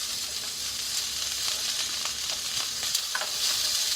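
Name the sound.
salmon frying in a pan on low heat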